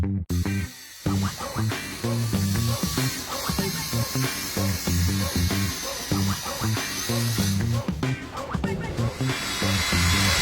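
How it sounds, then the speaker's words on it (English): Handheld power drill boring holes, sounding in a rapid chattering, pulsing whir with short bursts and pauses, loud and close, as a voice talks intermittently. "go on, show me how you drill holes in the front."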